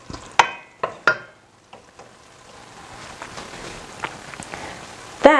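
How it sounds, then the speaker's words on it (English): Garlic, onion and red pepper stirred in a pot, with a few sharp scrapes and clinks of the spoon against the pot and a quiet sizzle beneath them. "So we're just going to stir."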